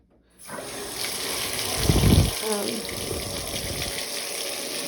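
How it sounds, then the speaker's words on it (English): Hot water gushes from a tap into a bathtub at a rental home, a steady close rush of running water that starts abruptly and continues throughout, with a brief louder splash near the middle. "Fill the bathtub up with like some hot water"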